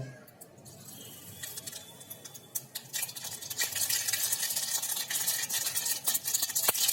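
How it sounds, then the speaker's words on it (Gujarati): Mustard seeds hit hot cooking oil and set off a crackling sizzle that builds over several seconds, with sharp scattered pops close by. "તેલ પણ આવી ગયું છે તેની અંદર થોડીક રાઈ નાખી દઈએ"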